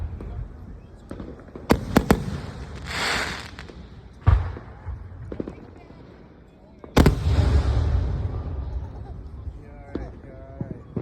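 Outdoor fireworks go off in several sharp bangs and a deep boom with crackling tails, separated by quieter gaps where voices chatter nearby.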